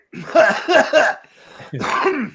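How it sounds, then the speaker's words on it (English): A few harsh, throaty coughing bursts close by, with a short pause before a final longer hacking cough. "I'm going to cough up a lung."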